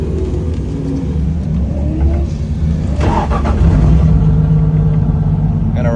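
Nissan S14 drift car with its engine running after a crash, a loud, close, steady rumble with a slight rise in revs midway, no talk over it.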